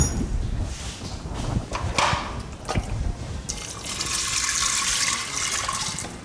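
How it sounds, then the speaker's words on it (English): Water pours into a pressure cooker holding Maharagwe beans and salt, a few splashy bursts giving way to a steady filling rush that continues to the end. "And add water."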